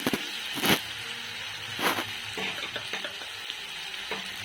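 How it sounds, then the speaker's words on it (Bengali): Capsicum stir-frying in oil for crab curry makes a steady soft sizzle, broken by a few louder scrapes of the spatula against the pan. "ক্যাপসিকামটা দিয়ে বেশ ভালো করে কষিয়ে নিতে হবে"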